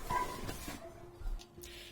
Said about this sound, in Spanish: se ponen los perros a ladrar